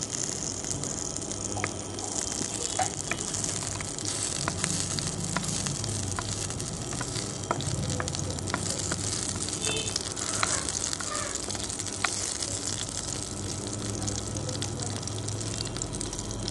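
Cloves and cinnamon dropped into hot oil give a steady, even sizzle, a continuous broadband hiss with faint crackles, moderately quiet and up close.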